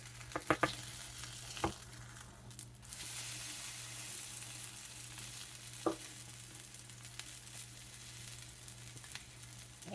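Eggless cinnamon apple French toast sizzles steadily in a buttered pan, with a few sharp clacks of a spatula as a slice is flipped, then a continuous soft frying hiss.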